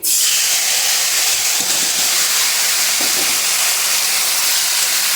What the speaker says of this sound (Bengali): এখন দিয়ে দিচ্ছি টমেটো কুচি।